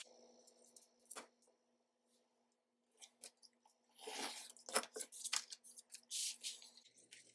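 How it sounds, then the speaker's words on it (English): Scissors cut a 1 inch paper strip for a small folio, several crisp snips and crunchy slicing strokes close up, sparse at first and then a denser burst of cuts, with no talking. "So I am gonna cut another 1 inch strip"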